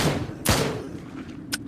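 Gunfire in the shooter video game Drop Dead: Dual Strike, with two sharp bursts about a second apart over a low rumbling game background, no talking.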